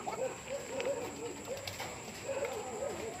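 Pigeons coo repeatedly in a loft, soft rolling calls rising and falling at close range against a quiet background.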